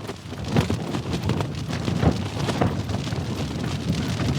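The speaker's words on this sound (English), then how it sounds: "There's a little bit of rain in it as well." Strong wind of about 25 miles per hour gusts with rain at 3 a.m. outdoors in the dark, making a rough, buffeting roar with scattered drops and a few louder gusts.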